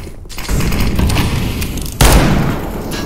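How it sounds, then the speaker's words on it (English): A grenade in the CS:GO video game goes off with a loud boom near the two-second mark, set against a steady bed of game noise and gunfire. "I'm throwing a grenade"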